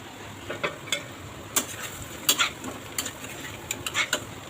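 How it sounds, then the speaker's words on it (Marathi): Roasted semolina (rava) is sautéed in a pan with a spatula, giving irregular metallic clinks and scrapes against the pan over a faint sizzle, close and with no voices. "मला याच्यात आपण भाजलेला रवा पण परतून घ्यायचा परत"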